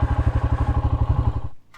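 Royal Enfield Himalayan single-cylinder engine thumping in a fast, even pulse, loud and close, before cutting off abruptly near the end.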